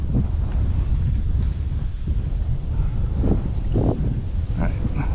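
Gusty wind buffets a microphone outdoors at a lakeside riverfront during spring fishing, a steady low rumble that swells and dips for the whole stretch.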